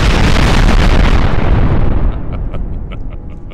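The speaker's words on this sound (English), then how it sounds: "am I supposed to play the explosion now or at the end?" An explosion sound effect played during a live show: a loud, full-bodied blast that holds steady as a dense roar for about two seconds, then thins and fades into a lingering rumble with scattered faint crackles.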